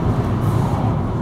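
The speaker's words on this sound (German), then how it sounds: "Ein Bus." A bus passing on a road, a steady low rumble of engine and traffic noise lasting about a second, close and fairly loud.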